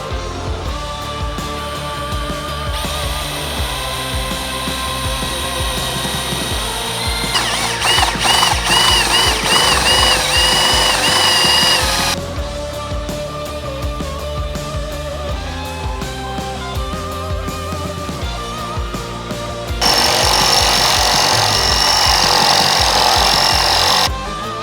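Drill running continuously on a 2022 Toyota Tundra, boring holes with drill bits and a hole saw, a loud steady whine that changes pitch as the bit loads and unloads, with no talk.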